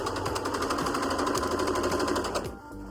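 A sewing machine stitches thrifted clothing from a marked point out to the edge, a fast, steady mechanical chatter that runs continuously before cutting off near the end.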